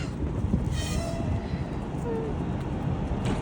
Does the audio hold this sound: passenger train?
yes